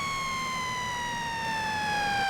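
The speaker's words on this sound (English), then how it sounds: "That's our Q siren." A fire engine's Q siren whines in a steady high tone that slowly sinks in pitch, loud and close, with no voices.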